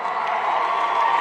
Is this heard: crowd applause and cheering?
yes